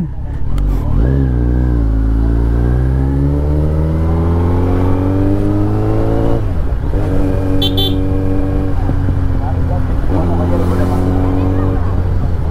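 Kawasaki Z900 motorcycle engine revving up repeatedly, loud and close, with rising and falling pitch sweeps and a brief pause between throttle blips.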